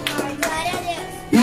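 Church congregation clapping during an evening service, a few broad bursts of hand claps over a hum, with children's voices and a speaking voice mixed in.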